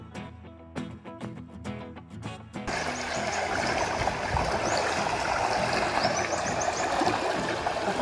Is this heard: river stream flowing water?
yes